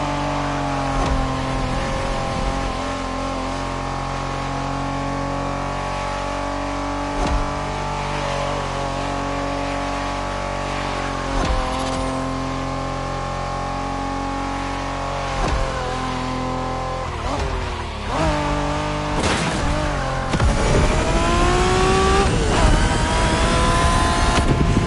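A Honda NSX sports car from the 1990s revs hard in a racing video game, its engine note climbing and falling steadily throughout, loud and close, with a sharper surge of acceleration near the end.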